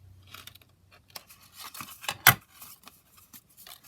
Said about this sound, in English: So I'm just going to trim it like that.